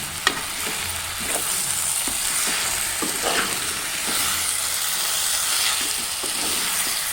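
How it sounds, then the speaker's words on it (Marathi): Masala sizzles and fries in oil in an uncovered pan while being sautéed for Malvani-style kombadi vade, with steady frying hiss and intermittent scraping stir strokes, close and continuous, no talking. "झाकण काढून घेतलं आपण थोडं ते परतवत आहोत."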